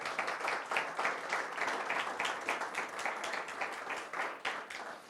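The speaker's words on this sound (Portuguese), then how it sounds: "Vamos aplaudir o nosso Deus por isso." A church congregation applauds together, a dense wash of many hands clapping at moderate distance with a loosely rhythmic pulse, fairly faint and sustained throughout.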